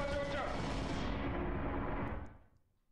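Machine gun turret firing in Lethal Company: a dense, sustained roar of rapid fire holds loudly for about two seconds, then cuts out and fades to near silence.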